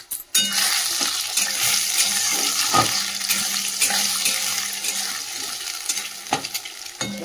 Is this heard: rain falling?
no